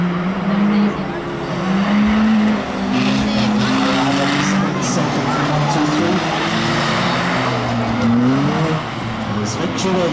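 Prostock cars race around the oval at Cowdenbeath Racewall, their engines droning loud and steady with rising and falling revs as they lap, while a track announcer talks over the PA throughout.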